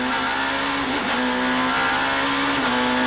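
BMW rear-wheel-drive touring cars race at Donington Park in the 1994 FIA Touring Car World Cup, a loud, close engine note holding a steady high drone with a brief dip as the car pushes out of a hairpin.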